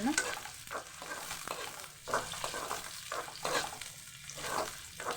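Fresh green chilies sizzle in hot oil in a pan while a chicken dish is cooked, with a steady crackling fry broken by regular scraping stirs about once a second, close and fairly quiet.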